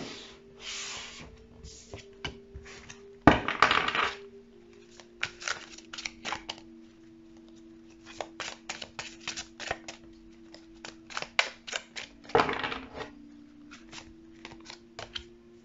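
Tarot cards being shuffled and dealt, with quick papery riffles and slaps in bursts, a louder flurry near the start and another later, over a steady low hum with no talk.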